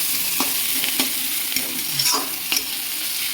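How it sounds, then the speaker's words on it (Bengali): Ginger and onion sizzling as they fry in a pan, with a spoon scraping and stirring in repeated strokes over the constant close frying hiss. "আদা, পেঁয়াজটাও দিয়ে দেবো। দিয়ে হালকা করে নেড়ে"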